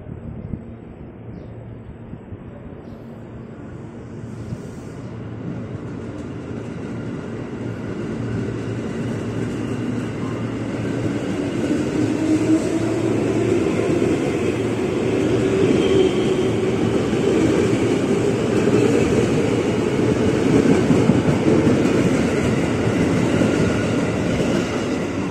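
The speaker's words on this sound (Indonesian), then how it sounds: "Komuter tujuan Bekasi, rangkaiannya 10 kereta langsung ngebut mengarah ke Matraman." A ten-car KRL commuter train bound for Bekasi departs track 3 and speeds toward Matraman, a steady rumbling roar that builds from moderate to loud with continuous rail noise and clatter, no talking.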